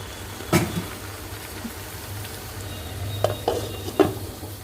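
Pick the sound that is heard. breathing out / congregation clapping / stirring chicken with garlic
stirring chicken with garlic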